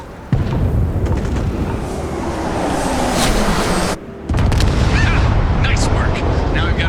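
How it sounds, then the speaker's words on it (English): A Skydrop missile in the video game Starfield deploys and strikes. Loud sustained rumbling and blasts run throughout, with a brief drop before another heavy roar, and faint game sounds over the top. "System's got a lock, missile loaded, Skydrop deploying."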